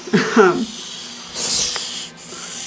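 A hognose snake makes short breathy defensive hisses and rasping puffs in bursts, close and sharp, with quiet gaps between them.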